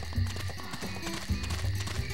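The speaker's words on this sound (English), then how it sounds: "Llama, I hear footsteps." Character footsteps in The Emperor's New Groove PS1 video game sound as quick, hoof-like clip-clop taps across a jungle level, set under busy background game music.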